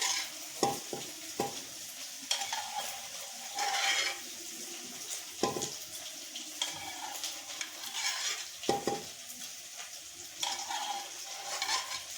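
Onion and garlic paste sizzles steadily in a hot pan, with occasional scraping and clinking as a spoon stirs it. No one speaks.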